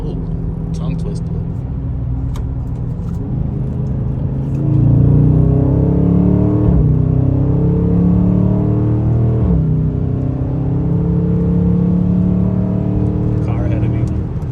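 A 2022 Dodge Charger Scat Pack Widebody with its mid muffler deleted gives a loud, deep, steady exhaust rumble that swells as it accelerates, heard from inside the car.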